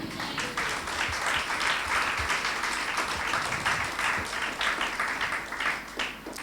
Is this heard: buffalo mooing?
no